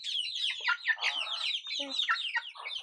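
Rhode Island chickens cluck and squawk in a busy farmyard, several close birds overlapping in rapid, uneven bursts with no pauses.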